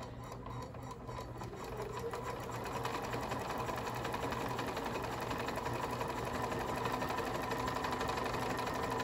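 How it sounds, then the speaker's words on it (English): A sewing machine stitches quilt-top pieces a quarter inch from a marked line, running at a steady, continuous hum with a rapid needle chatter throughout, close and even in level. "So I'm going to start sewing."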